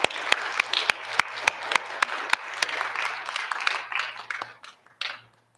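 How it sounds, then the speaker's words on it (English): An audience at a college student showcase applauds, a burst of many hands clapping that holds steady for several seconds, then thins out and fades away. "I'd like to give another round of applause to these students for this amazing work."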